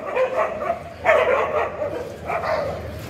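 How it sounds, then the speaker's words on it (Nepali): Stray dogs bark in the streets of Tamghas bazaar in Gulmi, Nepal. Several sharp barks and yelps come in bursts over steady town background noise. No one speaks. "तम्घास बजारका सडक, चोक र गल्लीहरूमा भुस्याहा कुकुरको बिगबिगिरहेको छ"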